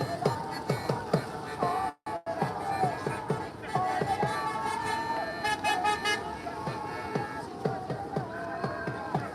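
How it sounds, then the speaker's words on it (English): Car horns toot repeatedly amid busy Paris street noise and a crowd murmur at a pro-Palestinian protest, with short honks coming and going throughout. "And the cars are also honking."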